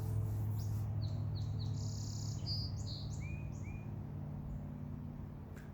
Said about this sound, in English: that bird call, I don't know if you could hear that